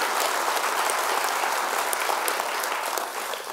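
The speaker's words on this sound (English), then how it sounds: "So a big round of applause for every single sporting athlete in our area" Audience applause for high school fall athletes at a sports awards event, dense steady clapping from a large crowd that holds loud throughout and eases slightly at the end, with no voices over it.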